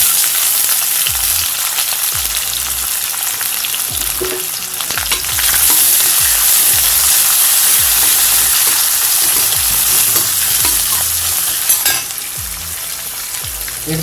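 Onions sizzling and frying in a pan for a Tamil karamani poriyal, a loud continuous crackle punctuated by repeated scraping stirs, with no voices.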